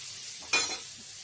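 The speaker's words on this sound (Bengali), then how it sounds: "আলু, বেগুন, ডাঁটা আমার ভাজা হয়ে গেছে। এখন এতে দিয়ে দেব আদা বাটা।" Ginger paste fries with potato, eggplant and stalks in a pan, a quiet continuous sizzle with one brief louder hiss of stirring.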